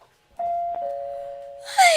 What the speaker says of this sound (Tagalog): Pindutan na ang doorbell na